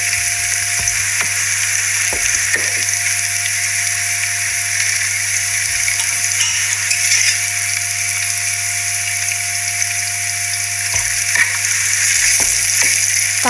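Onion fries in a pan over low gas flame for a prawn biryani, giving a steady close sizzling hiss with a constant low hum and a few faint clicks of stirring.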